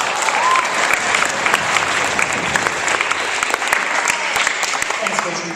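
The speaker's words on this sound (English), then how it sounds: "Give a round of applause for Coach Williams and Coach Stein." Audience applause for two coaches at a school Spread the Word Campaign event, steady dense clapping from a crowd lasting throughout without pause.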